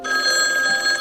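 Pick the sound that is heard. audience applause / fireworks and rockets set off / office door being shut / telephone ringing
telephone ringing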